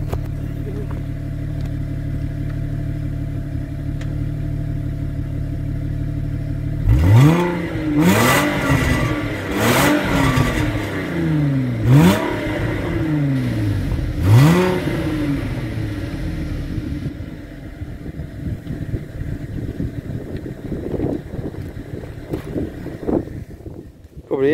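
A 1998 Audi A6 with a 2.4-litre V6 is revved several times in quick succession after a steady idle, each rise in pitch falling back before the next, then settles to idle again with some wind noise.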